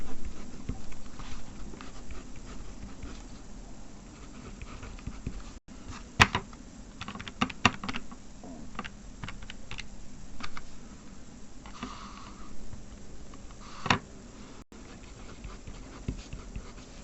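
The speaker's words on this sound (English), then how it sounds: "I was clicking this SD button to toggle between the two amounts." Calculator buttons clicked repeatedly while working through a GCSE foundation maths paper, giving scattered sharp plastic ticks of varying loudness against a quiet room background.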